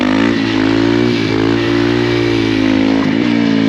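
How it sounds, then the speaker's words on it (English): Motorcycle engine revving loudly and close during a clutch-up wheelie, a steady harsh roar with brief dips and surges in pitch, no talk over it. "pull in your clutch, give it a little bit of gas, drop your clutch"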